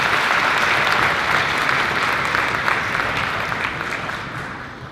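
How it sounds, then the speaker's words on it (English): An audience claps at a 4th grade school concert, steady applause from many hands that fades slowly toward the end. "So let's give Tex a round of applause."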